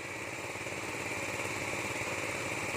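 A large water pump engine runs beside a rice paddy, a steady, droning mechanical hum with a fine rattling texture, continuous and even throughout.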